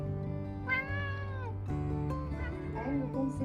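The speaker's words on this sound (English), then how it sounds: "another cat." A cat in a garden meows in a long, drawn-out, wavering call, followed by a few shorter, softer mews, fairly close and clear over a low steady background hum.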